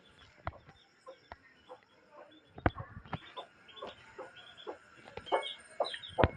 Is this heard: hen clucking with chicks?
yes